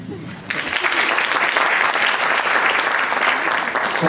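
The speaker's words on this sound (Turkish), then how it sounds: "Bari Abdullah Hocam'a bir alkış alabilir miyim?" A lecture audience applauds Abdullah Hocam at a talk on cities, feelings and identity. After a brief quiet moment, loud, steady clapping from many hands fills the room and continues to the end.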